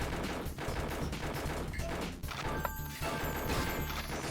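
Rapid bursts of gunfire from the arcade light-gun shooter Confidential Mission, dense overlapping shots with crashes and smashes over continuous game music, loud and busy throughout.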